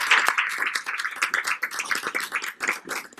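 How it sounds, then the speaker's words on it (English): A school board meeting audience claps for a high school student, producing scattered, moderately close handclaps that rise and fall in uneven bursts. "Let's give him another round of applause."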